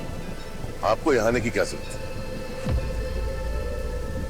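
Storm rain and thunder form a steady hiss in the background, with a low rumble setting in near the end as someone speaks over it.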